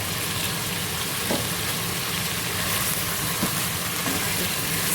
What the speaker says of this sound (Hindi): इसको प्याज को हम 3-4 मिनट तक इसको भूनेंगे ताकि इसका कच्चापन जो है वो ख़त्म हो जाए